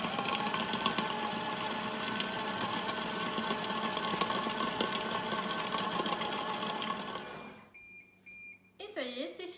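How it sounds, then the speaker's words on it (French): A CookEasy+ food processor mixes banana bread batter at speed 8, a loud steady motor whir that holds for several seconds, then stops, followed by a few faint beeps and quiet handling. "Et on va de nouveau mélanger une bonne minute à vitesse 8"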